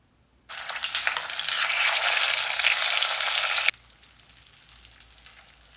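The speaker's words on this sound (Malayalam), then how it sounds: "അപ്പോൾ ഒക്കെ ഇനി വറുത്ത് തുടങ്ങാം." Three pieces of vatta fish hit hot oil in a pan, bursting into a loud, close, crackling sizzle that holds for about three seconds before dropping to a quiet simmer.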